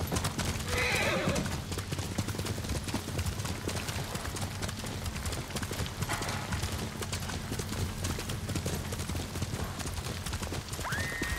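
A horse gallops in the PS4 game Ghost of Tsushima, its quick rhythmic hoofbeats close and continuous, with a brief whinny near the start.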